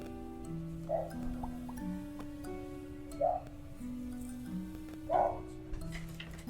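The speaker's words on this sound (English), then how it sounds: "Those gnome dogs are still real loud, man." Wolves howl in a video game, with faint, drawn-out wavering tones rising and falling in the distance, joined by a few brief soft bursts.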